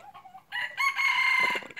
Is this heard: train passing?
no